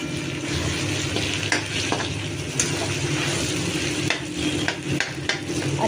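Tomatoes with turmeric and spices frying in a pan, a loud continuous sizzle with scattered crackles and the occasional clink of a stirring utensil.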